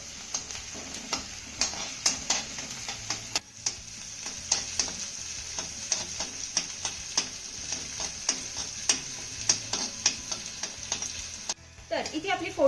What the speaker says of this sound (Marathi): आता ही फोडणी आपल्याला अर्धा मिनिट चांगली परतून घ्यायची आहे